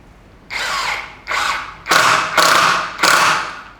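A cordless DCA ADPL03-14 impact driver running at high speed drives a 1.5-inch screw in five loud, close bursts of whirring and rapid hammering, each lasting roughly half a second with brief gaps between.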